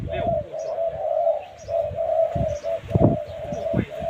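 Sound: decoy dove cooing

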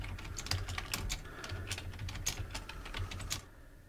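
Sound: computer keyboard typing and breathing

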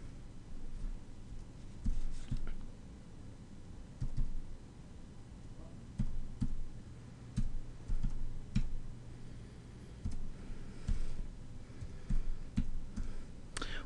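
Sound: typing on a computer keyboard

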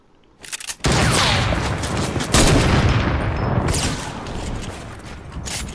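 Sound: gunfire in video game Fortnite

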